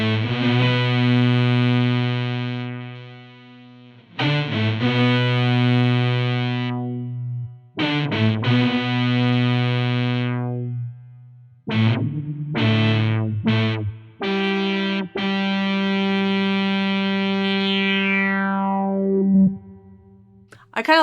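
BOSS SY-200 guitar synthesizer lead patch, with bright, buzzy sustained synth notes in separate phrases and short stabs, ending on a long tone that falls in pitch and fades out.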